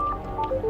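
Electronic phone tones sound in a short, loud sequence of clean beeps with pauses, like a mobile phone signalling an incoming call, on their own with no voices.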